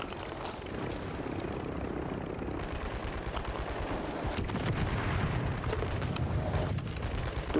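Helicopter in Call of Duty Warzone (Modern Warfare 3), a steady loud rotor drone running throughout amid game gunfire and explosion-like bursts, no talking.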